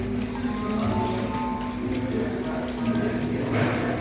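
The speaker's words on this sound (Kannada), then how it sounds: "ಗೋಡೆಯ ಮೇಲೆ ಉದ್ಭವವಾದಂಥ ಜಲಪಾತ, ಮಾನವ ನಿರ್ಮಿತ ಜಲಪಾತ." A man-made indoor waterfall pours down a wall at a Kolkata hotel dinner buffet, giving a steady, even wash of falling water with a low hum of voices and room noise beneath it.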